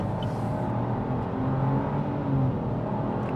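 A 2025 Chevy Trailblazer LT accelerating hard with a bit of wheel spin, its engine a loud, steady whirring drone heard from inside the cabin, alone with no voices.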